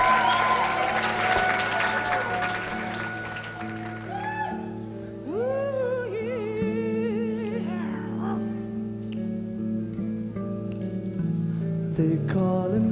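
An indoor audience claps and cheers for a band, a dense sustained wash of applause that thins while a few instrument notes and tuning sounds ring out over it.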